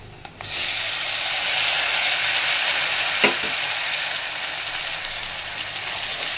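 Onions and tomatoes sauté for a gravy in a hot pan. A loud, continuous sizzle starts abruptly and holds steady, broken by a single brief knock partway through.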